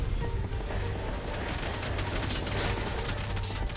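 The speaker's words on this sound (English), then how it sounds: "I couldn't really tell with all the explosions." Explosions and gunfire during a tribe raid in the ARK survival game: a dense, continuous barrage of crackling shots and muffled booms, blended into a constant roar with no pause.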